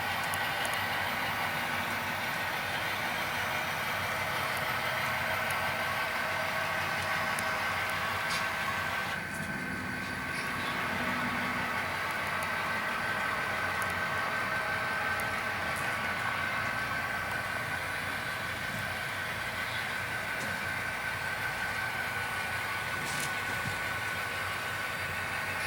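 A model train runs on the Grande Pacific Railroad layout, giving a steady mechanical hum and whine that holds for the whole stretch with small clicks, moderately loud and even.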